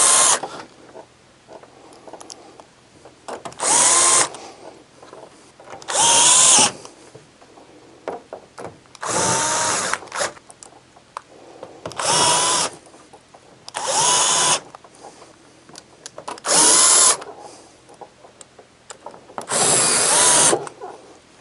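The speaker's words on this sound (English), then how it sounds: "I'm going to go ahead and install the screws along the side." A power drill drives screws into the side panel of a Santa Fe XT dehumidifier in eight separate loud bursts of whirring, each about a second long and spaced by quieter handling noise.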